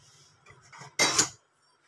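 Chillies and garlic being stirred and pressed in a pan while dry-roasting for bhindi thecha, with faint scraping and tapping building to a loud metallic clatter of utensil against pan about a second in, then quiet.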